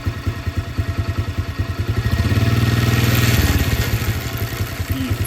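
G-Moto Cross X pro motorcycle engine running through gear shifts, a steady close putter that swells into a louder, smoother drone midway, then drops back to a rougher pulsing idle, with no talking.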